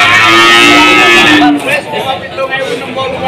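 A cow bellows a loud, long moo up close at the Tuban cattle market, followed by a noisy backdrop of livestock and crowd murmur.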